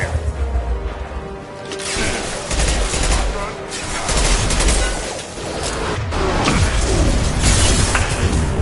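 Rapid bursts of gunfire from the video game Mass Effect 2, loud and dense, with overlapping shots and crashes that run continuously through a chaotic firefight.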